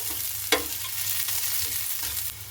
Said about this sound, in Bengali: পেঁয়াজটাকে একটু লাল লাল করে ভেজে নিতে হবে